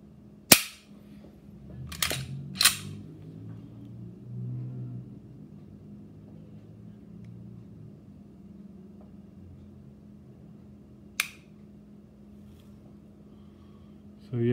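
A P30 SK pistol fitted with a Gray Guns short reset trigger gives a few sharp, isolated clicks, three close together early and one more later, against a quiet low hum.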